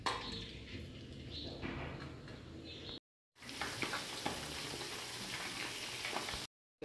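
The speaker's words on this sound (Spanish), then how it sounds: "Mientras se espesa nuestra salsa, vamos a ir friendo el pollo." Chicken pieces for sweet-and-sour chicken sizzling and crackling in hot oil, a steady bright hiss with popping, broken by brief silent gaps.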